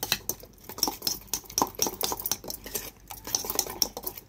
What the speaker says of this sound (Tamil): எல்லாத்தையும் நல்லா கலந்து விட்டோம்.